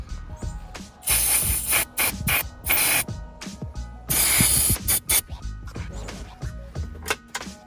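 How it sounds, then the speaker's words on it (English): Starter fluid sprayed into the intake of a broken-down Volvo engine: several sharp, loud hissing bursts of varying length, mixed with ratcheting clicks and mechanical rattling nearby. "let's try to spray some starter fluid right into here"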